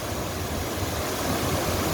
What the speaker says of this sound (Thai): เมื่อนี้พามา เบิ้งน้ำตกนะครับ น้ำตกแก่งซองนะครับ